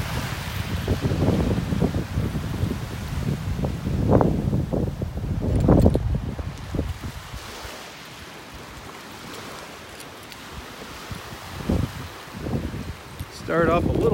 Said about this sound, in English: Little waves breaking out here just offshore on the sandbar.